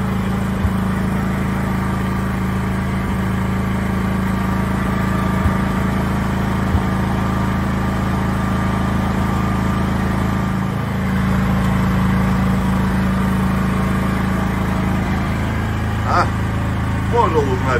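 A VITOLUX 7 kW petrol generator runs with a steady, loud engine drone that holds constant throughout, with a few faint background noises.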